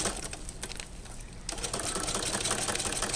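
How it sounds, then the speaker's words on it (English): A sewing machine stitches through Capri Sun juice pouch material, a steady rapid mechanical whirr running close and loud throughout with a brief shift in texture midway. "Same stitch, sew it the same way again."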